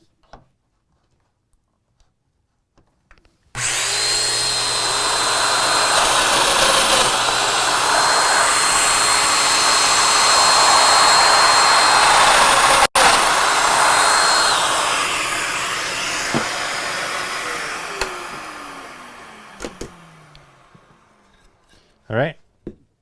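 A Festool Domino DF 500 Q joiner spins up and plunges into wood, giving a loud, steady high-pitched whine for about sixteen seconds, then winding down with a falling pitch as the motor stops.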